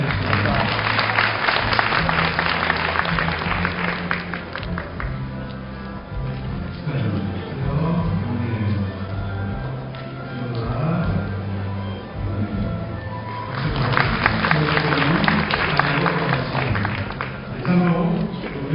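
Graduation ceremony audience applauding an award presentation, clapping in bursts at the start and near the end over a steady bed of background music.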